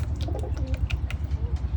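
Soft, repeated pigeon cooing with low throaty pulses, close by, over a faint background of fluttering and shuffling.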